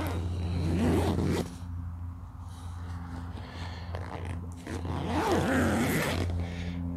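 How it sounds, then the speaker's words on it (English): A zipper on a camping tent vestibule is pulled in two long, close, raspy runs, separated by a quieter pause with faint rustling. "zippers to tighten everything up here"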